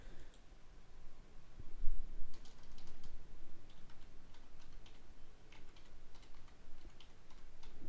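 Quick bursts of clicky keystrokes on a computer keyboard while an online form is filled in, irregular runs of taps with short pauses, close and moderately quiet.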